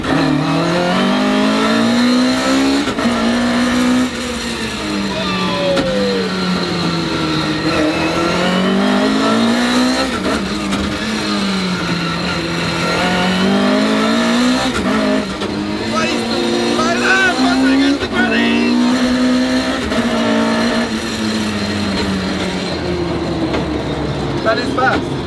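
A Nissan Silvia S15 revs hard on a dyno, its engine note rising and falling in long sustained sweeps, loud and continuous, with voices talking over it.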